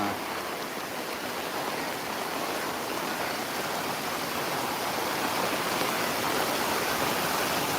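Rain pours steadily over Gabtoli cattle market, an even, unbroken hiss of water that continues without pause, with no voices.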